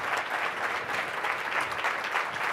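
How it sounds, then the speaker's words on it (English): A panel audience at a national mentoring summit plenary gives a steady, dense round of applause that holds evenly loud for its whole length, with no voices rising over it. "join me in just giving this panel one last round of applause"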